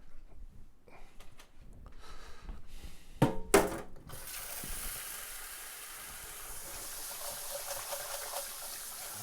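Rice being rinsed in a rice cooker pot: faint shuffling and clatter, a couple of louder knocks, then a steady loud hiss of running water pouring in and continuing to the end.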